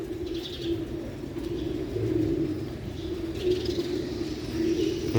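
A pigeon coos in a low, steady, repeated murmur close by, soft throaty calls rolling on continuously with no talking.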